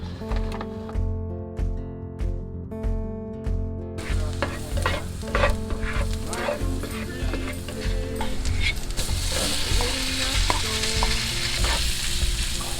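Spot prawns frying in butter and garlic: a close, constant sizzle and crackle with stirring and scraping in the pan, growing louder and busier partway through.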